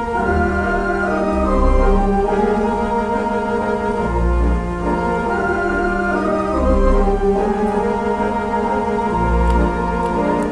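A theatre organ plays a sustained chord-based counter melody over a deep pedal bass, with low bass notes pulsing at a slow regular pace beneath rich held harmonies, loud and close with no talking.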